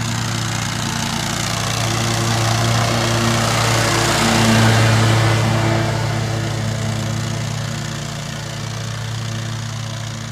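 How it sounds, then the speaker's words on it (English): A lawn mower cutting grass runs as a loud, steady, close engine drone that swells slightly midway and then eases, with no talking. "So we have to be careful when we mow over that."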